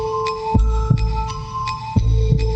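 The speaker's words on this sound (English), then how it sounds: "all we hear is a heartbeat" A heartbeat sound effect within a music track pulses in slow paired low thumps, several beats in steady rhythm over a sustained humming tone.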